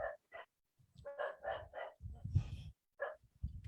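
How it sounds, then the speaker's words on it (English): Several dogs bark close by in a quick, irregular series of sharp woofs and yips, with brief snuffling and whimpering sounds between the barks. "I'm very sorry for my dogs."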